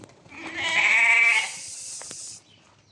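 Female Qissar breed lambs bleat in one loud, drawn-out cry close by, with a fainter bleat trailing after it.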